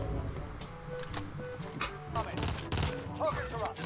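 Rapid bursts of gunfire crackle through a Warzone video game match, several overlapping volleys and automatic fire mixed under excited voices talking over voice chat.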